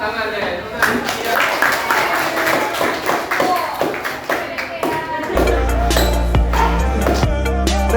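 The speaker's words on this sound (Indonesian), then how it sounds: "Tepuk tangan ya. Tepuk tangan." A class gives a round of applause during a lesson, with sharp, uneven hand claps at close range over ongoing talk, followed by a loud low rumble in the final seconds.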